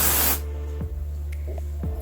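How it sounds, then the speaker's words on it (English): Moroccanoil dry shampoo is sprayed onto hair in one short, close, loud hissing burst at the start, followed by quiet room noise with a few faint soft taps. "I do like to spray it kind of all over my bangs"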